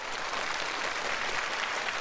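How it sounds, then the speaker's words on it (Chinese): A studio audience at a televised New Year gala applauds, producing a dense, even wash of clapping that holds steady and loud for its full length without voices. "来把掌声送给他们"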